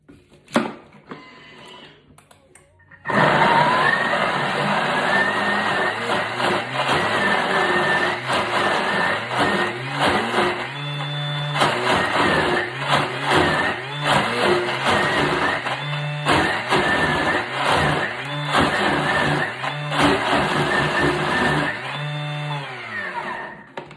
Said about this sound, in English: about 20 seconds is enough to blitz that up